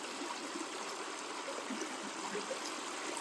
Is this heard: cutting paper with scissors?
no